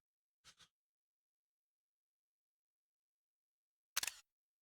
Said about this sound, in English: that's just the general PlayStation noise when you take a screenshot